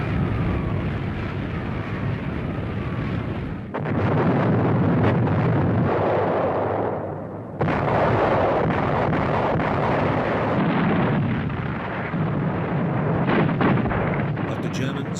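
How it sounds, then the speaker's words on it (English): Allied aerial bombing of a hilltop monastery in World War II, heavy rumbling explosions and aircraft roar in long loud bursts with a brief dip between them, with narration over it. "the Allies bombed the historic monastery on the summit"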